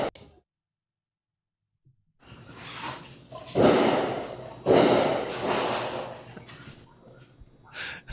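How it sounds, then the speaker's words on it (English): A neighbor's gunshots ring out as two heavy booming bursts, about a second apart, after a brief silence, each trailing off into a rumbling echo. "but I heard gunshots."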